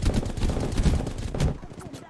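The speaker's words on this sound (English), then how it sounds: "Taking fire." Dense bursts of gunfire in the video game Apex Legends, rapid overlapping shots and impacts for about two seconds, with a voice partly mixed in.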